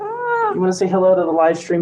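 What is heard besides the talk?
cat meowing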